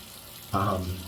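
Warm water runs briefly from a tap for shaving, a sudden close splashing hiss that starts midway and lasts under a second after a quiet room tone.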